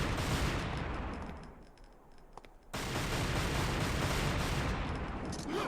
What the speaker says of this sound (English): Guns sound good.